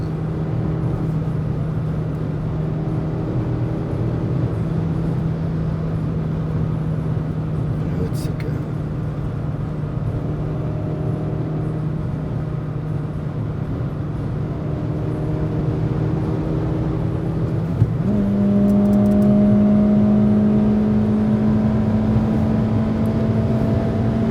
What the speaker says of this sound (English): So the car gets loud if you give the car RPM or the engine.